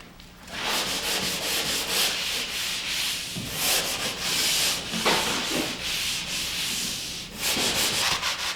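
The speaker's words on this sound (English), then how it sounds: "I use hand sanding tools as I look and feel for any defects" Steady, continuous scratchy rasping of hand sanding a drywall surface with a sanding screen, brief pauses between strokes, close by.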